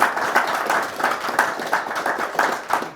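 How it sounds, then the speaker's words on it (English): An audience gives a quick round of applause for Dave after his talk on an automatic magnetic loop tuner, steady moderate clapping from a small room with individual claps audible throughout. "Quick round of applause for Dave."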